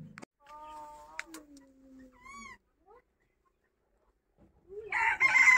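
A rooster lets out a long, wavering crow nearby, followed by a few short clucks and a pause, then a burst of louder clucking and squawking.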